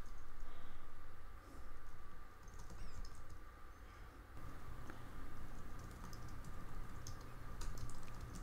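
Rapid, irregular keystrokes patter on a computer keyboard at a desk, quiet and close, with brief pauses between bursts of typing.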